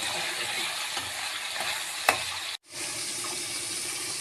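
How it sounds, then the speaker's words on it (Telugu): Mushrooms fry in oil in a pan with a steady, close sizzle. A brief stirring knock sounds partway through, followed by a momentary drop before the hiss resumes. "ఇలా ఆయిల్లో వేసుకొని ఈ మష్రూమ్ అనేది కొంచెం కలర్ మారే వరకు ఫ్రై చేసుకోవాలి"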